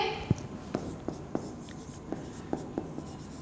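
A pen scratches across paper during an accountancy lesson, with a steady series of sharp strokes and taps about every third of a second, close and clear.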